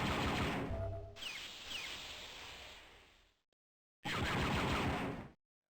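Gun turrets firing in a custom Dark Forces game map: loud rapid bursts of automatic gunfire, a long volley that fades out, a short silence, then another hard burst that cuts off abruptly.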